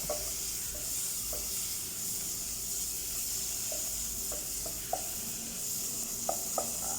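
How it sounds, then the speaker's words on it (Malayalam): Ripe tomato and garam masala stirred in a hot pan for vegetable kurma, giving a soft, continuous sizzle and hiss with occasional light spoon clicks and no talking. "ഒരു പഴുത്ത തക്കാളിപ്പഴം കൂടെ ചേർത്ത് നല്ല രീതിയിൽ മിക്സ് ചെയ്യുക"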